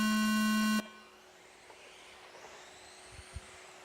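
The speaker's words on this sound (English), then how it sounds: "You guys are weapons free at the sound of the tone." Electronic start tone for an RC car race qualifying heat at a raceway: one loud, steady buzzing beep lasting under a second, then a quiet hum of the venue.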